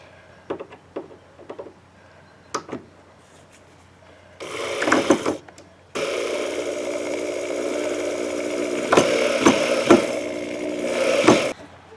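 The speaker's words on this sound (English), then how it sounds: "I'll finish putting the screws in the rest of the way in" A power drill drives screws into wood, starting with a few short taps and bursts, then settling into a longer sustained whine with slight rises in pitch as the screws are run in the rest of the way.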